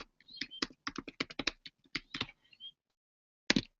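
Quick bursts of keystrokes on a computer keyboard, clear and close, with a brief pause near the end before a final cluster of taps; no voices.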